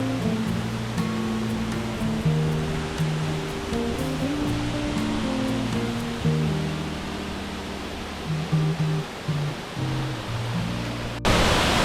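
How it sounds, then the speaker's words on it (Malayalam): A roadside waterfall in Kerala drops from a good height, producing a loud, constant roaring rush of water that fills the scene, with some low tonal sounds mixed in underneath. "നല്ല ഹൈറ്റിൽ നിന്നാണ് വെള്ളം വീഴുന്നത്"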